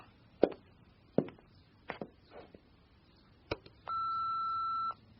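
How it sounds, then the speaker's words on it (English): A telephone at home sounds: a few sharp handling clicks and knocks, then a steady electronic tone that holds for about a second before cutting off, close and clear in a quiet room. "The phone."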